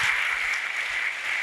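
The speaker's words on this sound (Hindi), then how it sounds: "जोरदार तालियां।" Loud, sustained applause from a church congregation, a dense steady wash of clapping that fills the whole moment without pause.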